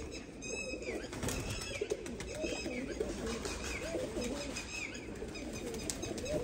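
A pair of golden Sialkoti pigeons coo in a steady rolling murmur, with bursts of wing flapping early on and light chirps throughout, close and fairly clear.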